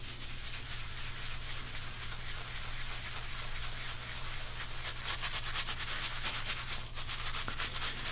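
A shaving brush works lather against skin while prepping for a Gillette Fusion ProGlide versus Feather F3 razor comparison, giving a steady close scratchy rubbing that grows busier and more crackly toward the end, with no talking.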